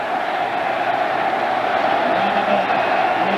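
A packed football crowd roars at Beaver Stadium during a 2002 Penn State versus Michigan State game, a dense, steady wall of cheering that holds at full strength throughout.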